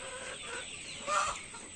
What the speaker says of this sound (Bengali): আর এইগুলো হচ্ছে ফার্মি মুরগি, ডিম পাড়া শুরু করছে